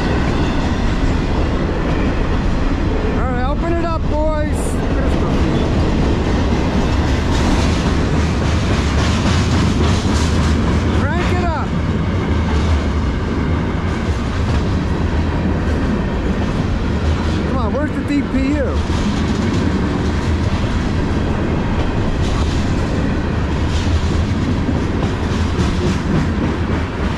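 Freight train with a distributed power locomotive rolling past nearby on the Lehigh Line, a continuous loud rumble of wagons and wheel clatter with occasional squeals and horn-like tones throughout.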